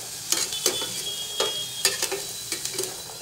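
Potato and spinach sabzi frying in oil gives a soft sizzle, broken by several sharp scraping spatula strokes as the pieces are turned, close by with no talk.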